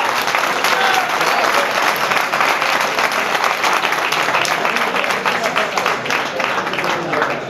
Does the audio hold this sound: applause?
yes